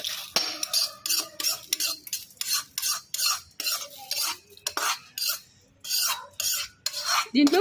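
Dry red chillies stirred in a pan, a rhythmic series of scraping, clinking utensil strokes against the metal with faint sizzle between them, close and moderately loud with no speech.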